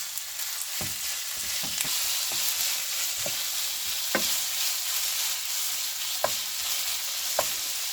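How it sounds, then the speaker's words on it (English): Meat frying with browned onion in a pan for sesame chicken, a steady hissing sizzle punctuated by several sharp spatula taps and scrapes against the pan. "Fry a meat a little bit"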